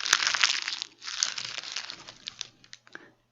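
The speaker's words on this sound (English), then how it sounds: "Some rustling." Rustling sound effect of crumpling, crinkling material, two bursts of dry crackle, the first dense and loud, the second fading into scattered small crinkles, heard alone with no talk.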